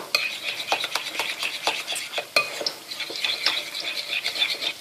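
A spoon stirring yogurt into mint sauce in a bowl, making steady, rapid clinking and scraping strokes close up, continuous throughout with no talking.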